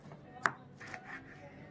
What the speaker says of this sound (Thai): มาหั่นให้ดูนะคะ นี่ค่ะไส้กรอกของเราค่ะ พร้อมเสิร์ฟนะคะ